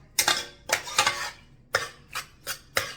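Cajun smoked homemade baked macaroni mixture being stirred in a pot, with a series of sharp metallic scrapes and clanks from a utensil against the pot in irregular bursts, close and clear.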